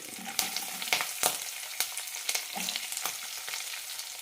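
Onion, slit green chilies and curry leaves sautéing in a pan for chicken mappas, a quiet steady sizzle punctuated by repeated clicks and scrapes of stirring.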